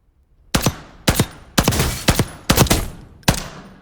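Rifle fired in single-shot mode in Warzone, six sharp, loud, close reports spaced roughly half a second apart, each with a short decaying tail, no talking.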